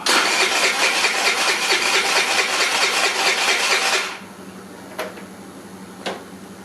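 An engine cranks steadily for about four seconds with a rhythmic starter whir but does not catch after running out of fuel, followed by quiet with two faint clicks; no one speaks.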